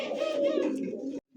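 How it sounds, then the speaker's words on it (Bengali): Two pigeons for sale give a low, steady coo lasting about a second, then a brief gap before a softer coo resumes, heard close and alone. "এই মুহূর্তে দেখতে পাচ্ছেন স্ক্রিনে দুইটা কবুতর"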